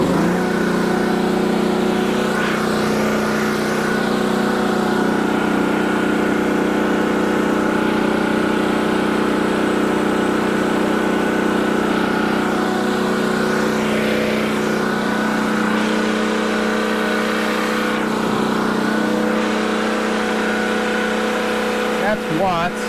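Warm portable generator engine running at a steady, loud, unbroken drone with constant humming tones throughout and no talking.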